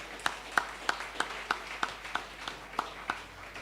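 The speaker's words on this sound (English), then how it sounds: "Let's give them a round of applause" Rhythmic hand clapping at a Saint Lucia Labour Party town hall meeting in Dennery South: about ten sharp, evenly spaced claps, fairly close and steady, with no talking over them.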